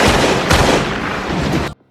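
A single loud, close gunshot in a tense gangster standoff, its harsh blast ringing out for nearly two seconds before cutting off abruptly into silence.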